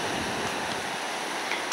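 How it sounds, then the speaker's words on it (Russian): Ocean surf washes onto a cold northern Norwegian beach in the Lofoten islands, a continuous broadband rush of waves and wind filling the short moment with no voices. "На берегу океана."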